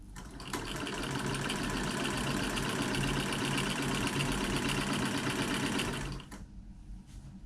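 An antique sewing machine, driven by a foot pedal and stitching car upholstery, runs at a fast steady whir with a dense mechanical chatter for about six seconds, then stops abruptly.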